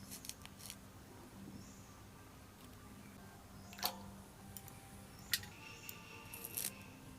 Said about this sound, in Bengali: লং ফলগুলো এবার কেটে নেব।